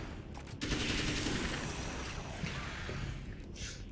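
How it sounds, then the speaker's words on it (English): Rapid automatic M16 gunfire in the video game Alan Wake's American Nightmare, a dense, continuous rattle of shots running loud and steady through the whole stretch without pause. "that sound effect for the M16 sounds so weird"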